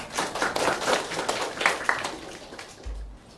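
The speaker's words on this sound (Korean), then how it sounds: "큰 박수 부탁드리겠습니다." A room full of people at a symposium clapping for a speaker, a steady patter of applause that fades out toward the end.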